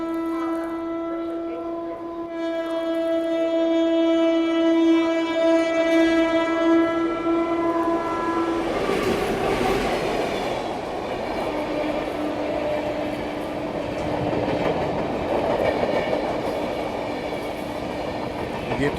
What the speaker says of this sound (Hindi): ये गोरखपुर हमसफ़र आ रही है